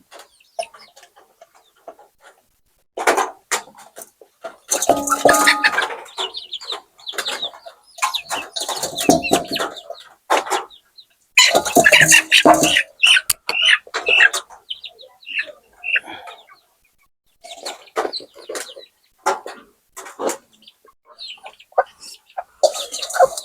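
Domestic hens on a poultry farm cluck and call in repeated bursts, close and fairly loud, separated by short quiet gaps, with scattered chirps from other birds mixed in.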